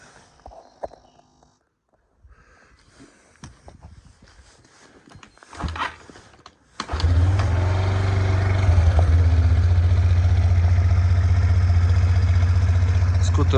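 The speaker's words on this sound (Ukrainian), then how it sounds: "Моточок холодний, зараз трошечки на підвищених обертах працює на прогріві." A Suzuki Address V125 G scooter starts and runs at a fast idle while its cold engine warms up, a steady close low hum after the start, with quiet handling noises before it.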